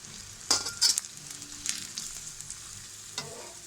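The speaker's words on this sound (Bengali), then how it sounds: "এখন দিয়ে দিয়েছি এলাচ, দারচিনি, তেজপাতা, লবঙ্গ।" Chopped onion with cardamom, cinnamon, bay leaf and cloves frying in a little oil, a soft sizzle broken by a few sharp spatula scrapes and clinks against the pan, no voices.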